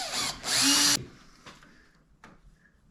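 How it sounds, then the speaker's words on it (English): A power drill drilling mounting holes in metal whines loudly in two short bursts lasting about a second, followed by a few faint clicks and handling noises. "We got to drill the 2 other mounting holes, so we'll go ahead and do those quick."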